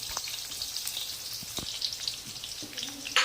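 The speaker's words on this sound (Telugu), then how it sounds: "ఫస్ట్ ఉల్లిగడ్డలు వేసుకోవాలండి. ఫ్రై కావాలి కదా." Sliced onions sizzling in hot oil in a pan for paper attukula chivda, a close, steady crackling fry with scattered pops and spits.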